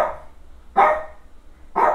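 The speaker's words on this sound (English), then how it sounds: "Sorry, Rennie's barking." A deaf dog indoors gives three sharp, fairly close barks spaced about a second apart, each a short, loud burst against a quiet room.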